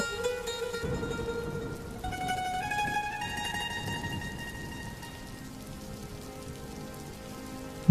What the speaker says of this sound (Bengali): বৃষ্টির জল যে ভাতের হাঁড়ির মধ্যে পড়ছে